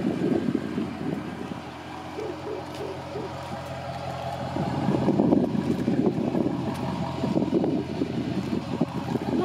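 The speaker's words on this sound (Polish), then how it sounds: "No i brzmienie tego silnika." Dodge Challenger R/T 6.4 V8 SRT rumbling at idle, a low, steady, slightly uneven burble heard up close for several seconds with some variation in intensity.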